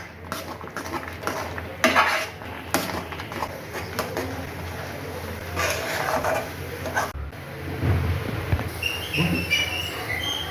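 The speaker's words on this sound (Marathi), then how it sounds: "ह्याला हलवत राहायचं म्हणजे खाली चिकटलंही नाही पाहिजे" A thick patvadi rassa mixture is stirred in a pot, with a spoon scraping and clinking against the metal in irregular strokes, close up and without talk.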